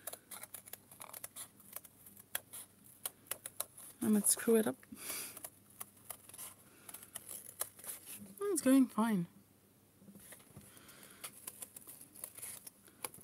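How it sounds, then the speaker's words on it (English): Scissors cut through cardboard in a couple of short bursts of crisp snipping and crunching, quiet and close, with a person talking softly at other moments. "This is one of the newest scissors that I got"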